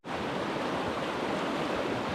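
Little waterfalls in a shady, rocky trout stream make a steady, dense rush of splashing water, continuous and fairly loud, with no voices.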